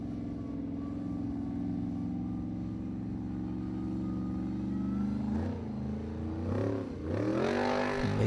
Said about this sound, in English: Now let's look at Ingvar Jóhannesson driving the Viking